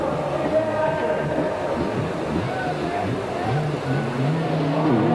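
Racing motorcycle engines at a 1986 USHRA event in Philadelphia whine and rise in pitch, mid-distance over crowd ambience, while an announcer talks throughout.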